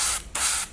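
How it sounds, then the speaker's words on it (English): An airbrush sprays clear coat over a decal on a model in two short, close hissing bursts separated by a brief gap. "So I'm going to put some clear coat over this decal so it protects it a bit more."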